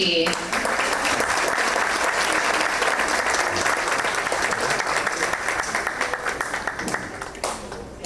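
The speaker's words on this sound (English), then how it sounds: "let's give a big round of applause to our only A-rated campus" An audience at a school board meeting applauds Liberty Elementary with dense, sustained clapping that fills the room and tapers slightly near the end, with some voices mixed in.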